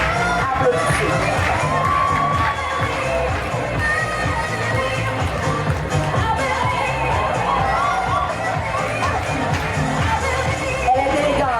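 An audience at a fashion show cheering and whooping, with excited shouts and crowd clamor rising over a continuous bed of noise, loud and close, with voices mixed in.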